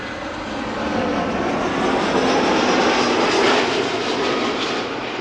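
Vueling airliner passing at Amsterdam Schiphol Airport, a loud, broad jet-engine roar that swells slightly and holds steady throughout, with no talk over it.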